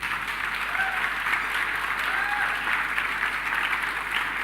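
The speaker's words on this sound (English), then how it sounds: "a round of applause for yourself." Applause from a conference audience at Innovate'24, a continuous even round of clapping filling the room.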